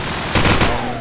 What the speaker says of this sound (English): Tries to wall bang